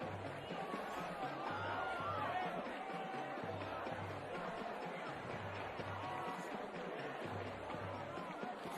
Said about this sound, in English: Boy, there's a big crowd here tonight.